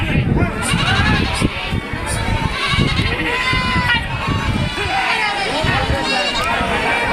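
Goats and young kids bleat repeatedly at a busy goat market in Kunta, Ongole, their calls overlapping with constant nearby talk and crowd bustle.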